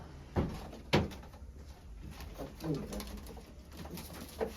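Soft pigeon coos murmur in the background, punctuated by a couple of sharp knocks like a door or cupboard bumping.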